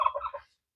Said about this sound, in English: there's turkey in the bush and a bunch of chickens.